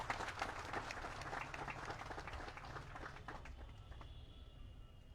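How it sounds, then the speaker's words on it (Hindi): Faint, distant applause from a crowd at a mayoral swearing-in ceremony in Ajmer, a soft patter of many hands that fades away near the end into low background noise. "जोरदार तालियों से उनका अभिनंदन करें"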